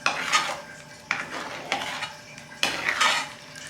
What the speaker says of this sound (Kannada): ಇದನ್ನು ಈ ರೀತಿ ಚೆನ್ನಾಗಿ ಮಿಕ್ಸ್ ಮಾಡ್ಕೋಬೇಕು.